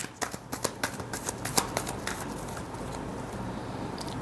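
Tarot cards being shuffled close up, a quick run of crisp riffling taps over the first two seconds, fading into quiet room tone.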